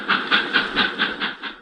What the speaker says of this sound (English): From the steam locomotive to the roaring high-speed diesel engines